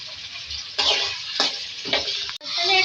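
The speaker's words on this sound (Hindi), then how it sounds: "इसको फ्राई करेंगे।" Green chili chicken frying in a pan gives a steady close sizzle, with short scraping bursts as the pieces are stirred.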